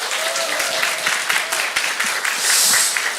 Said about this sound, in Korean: 저희 가족 보시기 전에 큰 박수 쳐주시면 저희 가족들이 무대 앞으로 나올 것 같습니다.